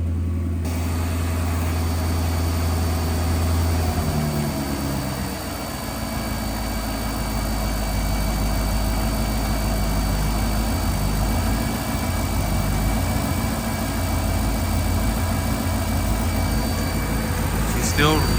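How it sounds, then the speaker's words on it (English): The engine of a 28-year-old car idles rough, its note dropping after a few seconds into a steady, uneven low churn that runs on for a long stretch, with a voice talking over it. "She's still idling rough."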